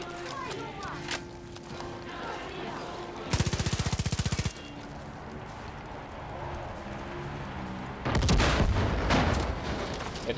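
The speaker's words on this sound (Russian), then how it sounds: "Это что за взрыв был?" Far Cry 5 combat: a rapid burst of automatic gunfire, a lull of quieter game ambience, then a heavy, booming explosion that roars on to the end.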